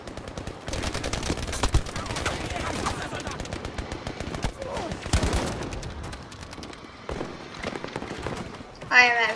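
Rapid automatic gunfire and scattered shots from the Battlefield V video game, continuous and busy throughout with bursts swelling and fading, a louder crack near the end, and a voice speaking underneath.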